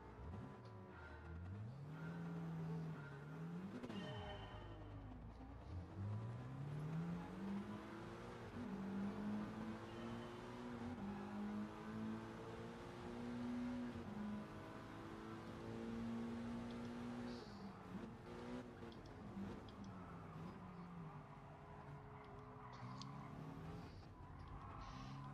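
A Mitsubishi Evo race car engine in Gran Turismo Sport at Monza roars continuously, revving up and down through gear shifts with occasional tire squeal, loud and close, with no talking.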